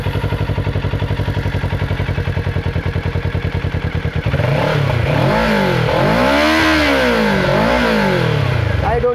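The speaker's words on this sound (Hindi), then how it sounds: "आइए इसका साउंड आपको सुनाते हैं। और ये किया मैंने इस बाइक को स्टार्ट," A 2020 Kawasaki Ninja 650 BS6 with its stock exhaust idles close by with a steady, even pulse, then is blipped through several rising and falling revs that grow louder and rougher.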